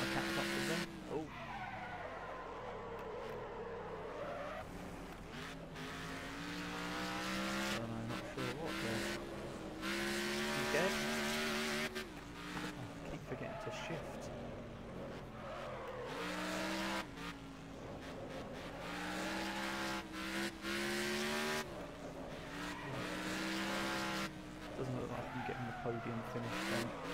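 Race car in the demolition racing game Wreckfest, with a continuous wailing engine whose pitch rises and falls through gear changes, and repeated tire squeals and skids as it slides through corners, loud and close.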